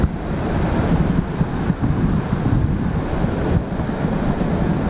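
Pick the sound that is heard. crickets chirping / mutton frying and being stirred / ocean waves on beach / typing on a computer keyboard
ocean waves on beach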